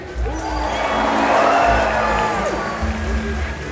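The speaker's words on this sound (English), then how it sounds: "let's give him a big cheer" Stadium crowd at an orca show cheering and whooping together, a broad roar that swells in the middle and stays steady, with some voices mixed in.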